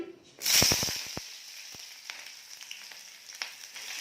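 Chopped onions drop into hot oil in a pan for an Assamese pork dish, bursting into a loud sudden sizzle with a few sharp crackles, then settling into a steady softer hiss.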